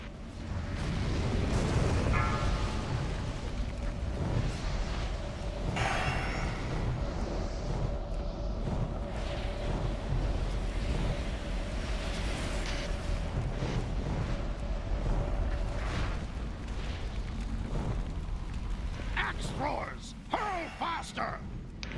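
Cannon fire and explosions during a gunship battle in WoW Classic, heavy booms and bursts over a constant rumble with a steady mechanical tone, voices talking over it throughout.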